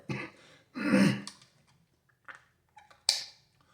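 A few short, harsh coughs and throat-clearing bursts close by, separated by quiet pauses, with no talking.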